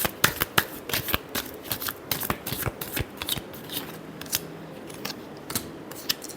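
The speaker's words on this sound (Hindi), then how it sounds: "Last shuffle." Tarot cards being shuffled by hand give close, crisp riffling snaps and flutters in quick irregular bursts, heard alone without talk.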